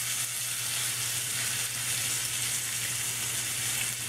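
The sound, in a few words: steak sizzling as it is turned in the pan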